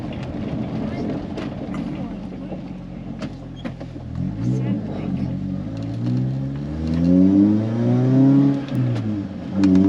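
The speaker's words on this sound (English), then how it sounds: "It's a really rev-happy engine." A Pontiac Vibe GT's 2ZZ engine with a custom stainless exhaust idles, then revs up repeatedly, the exhaust note rising and falling in pitch, loud and close.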